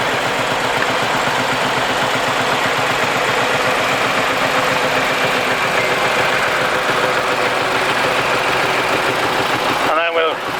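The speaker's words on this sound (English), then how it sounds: "This is a Ford 8210, turbocharged engine." A Ford 8210 tractor's turbocharged engine idles at a steam rally with a loud, steady, close rumble and throb throughout, ending in a brief clatter.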